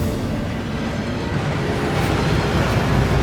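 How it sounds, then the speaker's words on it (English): Thief's Downfall waterfall inside Gringotts bank in the video game Hogwarts Legacy, a loud, steady rushing roar of falling water that continues evenly throughout. "That waterfall washes away all enchantments."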